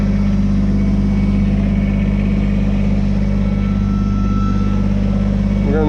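A Kubota BX23S compact tractor engine idling, a loud, steady low rumble that holds evenly throughout, with a faint rising whine at the very end.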